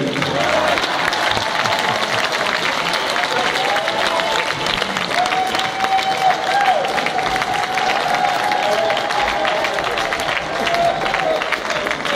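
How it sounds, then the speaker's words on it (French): Sustained audience applause at a church healing and testimony gathering, a loud, unbroken roar of many hands clapping with some crowd cheering, while a voice sings or speaks over it through much of the stretch. "n'ayons pas peur, applaudissons"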